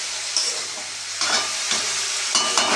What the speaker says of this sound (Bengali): ভেজে নিচ্ছি ভালো করে ফুলকপি আলুগুলোকে।